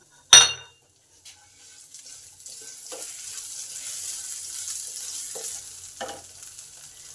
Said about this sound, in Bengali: জিরে লঙ্কা আদা আমার সব ভালোভাবে ভাজা হয়ে গেছে।